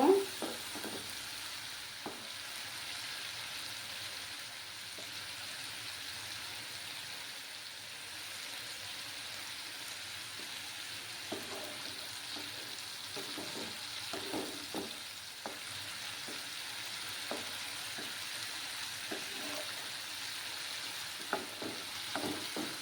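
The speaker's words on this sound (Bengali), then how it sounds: "কাঁচা গন্ধ না যাওয়া অবধি আমি ভালোভাবে কষিয়ে নিব" Dry fish, potato and brinjal curry being sautéed in a pan, a soft steady sizzle under scattered quiet spatula taps and scrapes, no voices.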